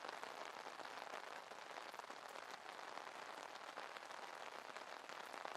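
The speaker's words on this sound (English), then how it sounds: "she reclines her seat and closes her eyes and decides to just relax to the sound of the rain" Steady rain falls continuously and close, a dense even patter with no gaps or talk, heard while resting in a parked car on a rainy evening.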